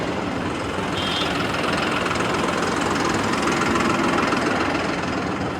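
A new John Deere 5075E top-model tractor engine runs close by with a loud, steady, unbroken rumble that fills the whole stretch, and no talk over it.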